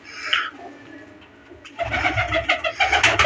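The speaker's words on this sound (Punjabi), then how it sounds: "ਰੱਤਾ ਕਬੂਤਰ ਹੈ, ਕਬੂਤਰੀ ਲਾਈ ਹੈ" A breeding pair of pigeons, a red male with his hen, coos up close: a few soft calls at first, then a louder run of rolling, throaty coos, with no voices.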